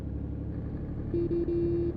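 A truck horn in Euro Truck Simulator 2 on a Tourismo 16 right-hand-drive run near Edirne, honked in three short steady blasts, the last held longer, over a low engine drone.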